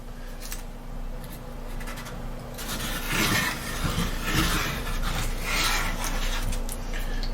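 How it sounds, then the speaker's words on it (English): Glued model bridge pieces being pressed and rubbed back and forth onto a foam layout base, a soft, close scraping and rubbing that builds after a quiet start over a steady low hum, with no talking. "when you press each piece down, you can also rub back and forth a little bit, kind of spread that glue around as you lay these pieces"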